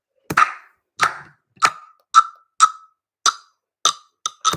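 A guiro in a homemade percussion track gives short scraped, clicky strokes, about ten of them, evenly spaced at first and then quicker near the end, close and dry with silence between.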